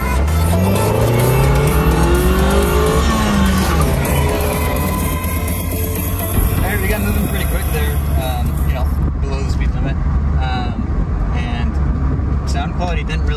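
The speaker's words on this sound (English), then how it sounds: "We'll drive around a little bit and just see how it does." An NA Mazda Miata driving at speed, a continuous loud engine and road drone rising in pitch as it accelerates, with someone talking over it and car stereo playing.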